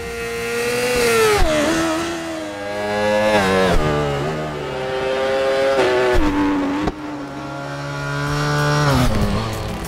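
Motorcycle engines in the RIDE 4 racing game, super sports bikes: a loud, tonal engine drone that rises and falls through repeated revs and gear shifts over ten seconds, with no voices.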